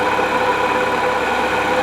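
An air compressor motor runs hot and nonstop at its pressure limit, a steady close mechanical hum with no pauses and no talk.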